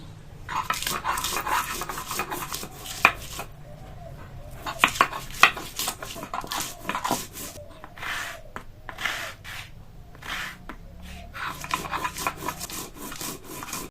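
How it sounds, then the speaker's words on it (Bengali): Green chillies being ground into a paste on a stone in a home kitchen, giving repeated gritty rubbing and scraping strokes in bursts with short pauses, close and fairly loud. "কাঁচা লঙ্কা বেটে নিব।"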